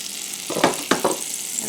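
Butter sizzles in a hot frying pan coated with nonstick spray, a close, steady crackle with a few louder pops and stirring scrapes.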